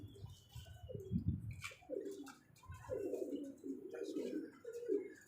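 Caged flying and breeder pigeons coo softly in a series of low, throaty, rolling calls, fairly close but quiet, with faint background noise between the coos.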